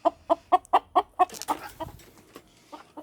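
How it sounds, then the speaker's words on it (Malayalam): A brooding hen clucks close by in a quick run of about seven even, loud calls, then the sound trails into softer scattered clucks and rustling. "കോഴികൾ"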